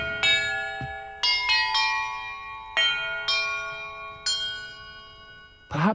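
Church bells ring in the video game Hogwarts Legacy: a sequence of separate clear strikes at different pitches, each ringing on and fading before the next, with one last bright clang at the end.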